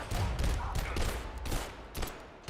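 Pistol gunfire in the video game Abiotic Factor comes as a rapid string of sharp, loud shots in close succession, overlapping into a dense barrage over a couple of seconds.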